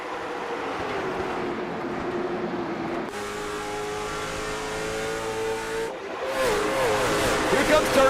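Race cars on the Five Flags Speedway oval take the green flag at the Kinetic 250, a loud continuous roar of engines accelerating as a pack, with a commentator talking over it.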